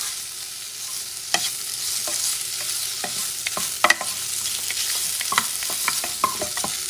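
Salted pork sizzles steadily in a hot pan while a utensil stirs and breaks the pieces apart, with sharp scraping clicks over the continuous frying hiss and no talking.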